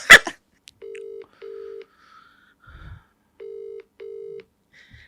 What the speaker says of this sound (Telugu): ఒకసారి ఫోన్ చేసి మాట్లాడు